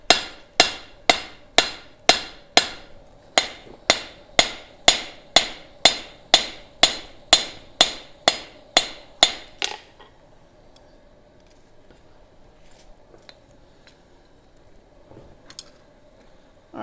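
Rapid, evenly spaced hammer blows ring against hot steel on an anvil while forging and upsetting a bevel, about twenty sharp metallic strikes up close, then a quiet stretch with a few light taps.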